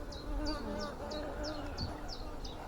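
Honeybees humming around an open hive during an inspection, a soft continuous buzz near the listener, with a run of repeated high chirping calls on top of it.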